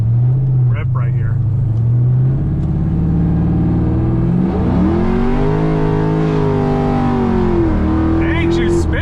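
A 500-horsepower Pontiac GTO accelerates hard with its rear wheels spinning, the engine note rising in pitch as it pulls through a gear change, loud and close with a brief voice at the end.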